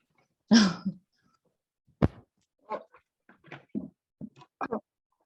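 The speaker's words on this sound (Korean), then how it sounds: "기침 자꾸 나는데" Several separate coughs and throat-clearing sounds, close to the mic, spaced irregularly with quiet gaps between them.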